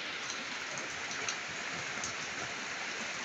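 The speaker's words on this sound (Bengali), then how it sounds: "বৃষ্টি ঘরের চারপাশ দিয়ে খুব বৃষ্টি হচ্ছে।" Heavy rain pours steadily around a house in Noakhali, a dense, even hiss of drops on surfaces with no pauses and no voices.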